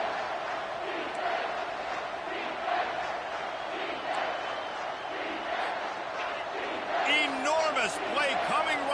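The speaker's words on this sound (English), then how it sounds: "this crowd is bringing down the house" A dense stadium crowd in College Football 25 roars continuously, swelling louder toward the end as whistles and cheers rise, with a commentator talking over it throughout.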